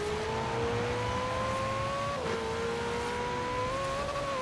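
A Maserati Ghibli engine revs in Forza Horizon 4, a loud, close tone climbing through the gears with a brief drop at a shift before rising again, steady and unbroken.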